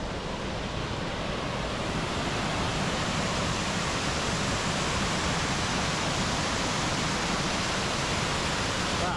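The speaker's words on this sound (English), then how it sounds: "Let's go see his waterfall anyway." Waterfall in the Lake District, a constant dense rushing roar of falling water that holds steady and fairly loud throughout.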